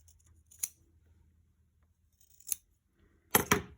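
Scissors snip through fabric corners of a sewing project: three crisp, close cuts, two spaced apart and a final louder double snip, with a quiet background between them.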